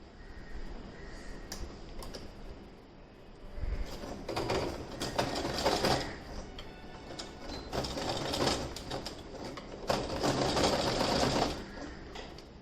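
A sewing machine stitches fabric for an apron using a large stitch length. It runs in a steady, close mechanical whir that speeds up and slows in several bursts over the stretch, with short pauses between runs.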